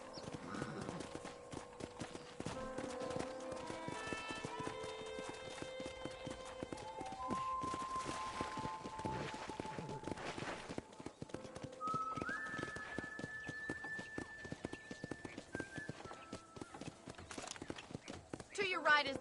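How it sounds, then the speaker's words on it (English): Horse hooves clip-clop in a steady rhythm while riding in the video game Red Dead Redemption, with a character's voice talking over them, along with game music and ambient sound. "let's see if you can still ride a horse."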